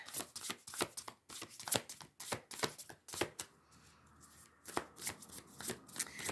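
Oracle cards from a Shaman Dreams Oracle deck being shuffled by hand, with quick bursts of crisp riffling and slapping in uneven runs and a brief pause midway, close and quiet.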